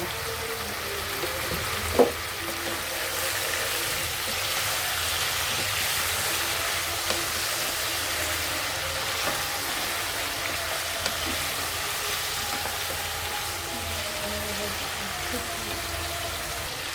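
Pigeon and potato curry ingredients fry in oil in a pan, a steady broad hiss with a few faint clicks of a utensil, moderately close and continuous, with no speech over it.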